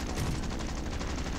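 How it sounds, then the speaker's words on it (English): Rapid gunfire from the War Thunder video game, a dense burst of overlapping shots filling the short moment at steady loudness with no talk. "someone's shooting at me."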